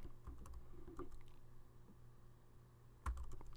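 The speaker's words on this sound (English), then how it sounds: "So what I'll do is I'll type in that command" A computer keyboard is typed on softly and at close range, giving scattered light clicks over a low steady hum. One sharper keystroke lands near the end.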